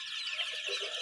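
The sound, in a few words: one-month-old Tiger breed chicken chicks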